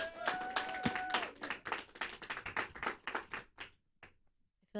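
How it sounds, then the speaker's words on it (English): An audience applauds as a singer is introduced to perform a song, with dense, close clapping that gradually thins into scattered claps and dies away near the end. "Big round of applause"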